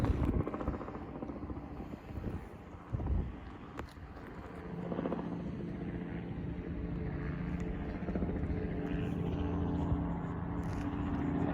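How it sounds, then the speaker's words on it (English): A helicopter drones in the distance at Hama Hama, Washington State, a faint steady rotor rumble holding throughout with a few small knocks nearby. "Don't mind the helicopter."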